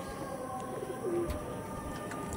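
A brief, soft coo from a top-quality Madras pigeon rises once against a steady low background hum, otherwise quiet.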